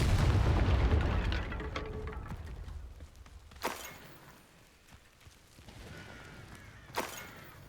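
Two sharp booms of a Confringo fire-spell explosion from Hogwarts Legacy, each a loud burst over a dense rumbling game soundscape that fades from heavy low noise early on.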